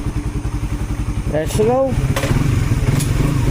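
A motorcycle with new brakes and fresh oil runs nearby with a steady, throbbing engine pulse throughout, while someone speaks briefly over it.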